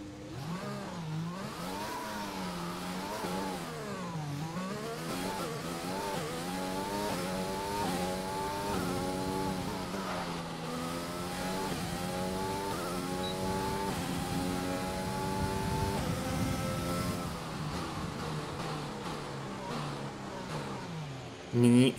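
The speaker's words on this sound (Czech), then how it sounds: "tady už krátké srovnání se zvukem motoru z F1 2020" A Formula 1 car engine from the game F1 2020 screams through repeated rising and falling gear changes, loud and continuous, with a synthetic, game-like quality and no talking.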